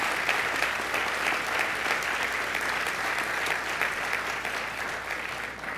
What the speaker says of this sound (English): Let's give the Board of Regents a round of applause.